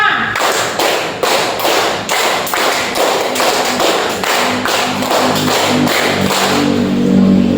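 A class claps a set rhythm together in sharp, evenly spaced group claps, a steady run of loud close strikes with brief gaps between beats, while a faint voice hums underneath.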